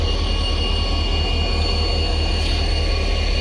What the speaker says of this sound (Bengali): 1 নম্বর প্ল্যাটফর্মে দিয়ে ঢুকের বারিগ্রাম জংশনও ট্রেনটা